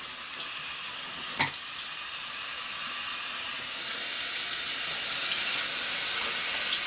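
Water runs steadily from a household tap, a close, constant hiss that fills the whole stretch with no talking over it.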